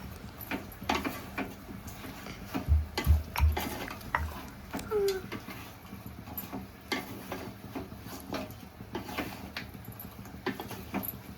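A utensil stirs chicken fry in a hot smoking pan, giving repeated scraping clinks and clatters of metal against the pan at an irregular pace, close and moderately loud, with no talking.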